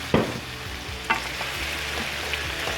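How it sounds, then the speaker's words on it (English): Food sautéing in a pan with soy sauce and Creole seasoning, a steady sizzle broken by a few sharp utensil scrapes and taps, close and fairly quiet with no talking. "Let that saute"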